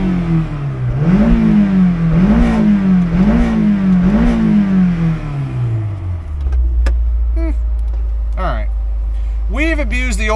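A 2002 Honda S2000 AP1's F20C engine is revved up four times in quick succession, each rise loud and close, then drops to a low idle while people talk over it.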